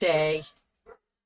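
A dog indoors gives one loud, drawn-out bark, then a brief quieter yip after a pause, close to the microphone.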